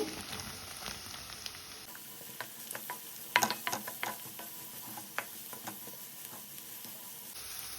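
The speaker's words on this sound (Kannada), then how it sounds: "ಸ್ವಲ್ಪ ಫ್ರೈ ಆಗಬೇಕು ಫ್ರೆಂಡ್ಸ್ ಈರುಳ್ಳಿ" Chopped onion sizzles steadily in a hot pan for garlic rice, with a soft continuous frying hiss broken by scattered spatula scrapes and taps on the pan.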